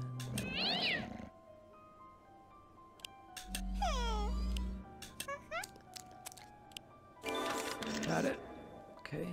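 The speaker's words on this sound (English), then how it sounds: "first I need to lure the cat" A cat meows several times in the Dark Dimensions City of Fog video game, drawn-out rising and falling cries, close and clear, mixed with sharp clicks and a low hum between calls.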